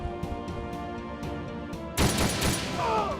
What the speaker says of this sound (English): I got return fire from both of them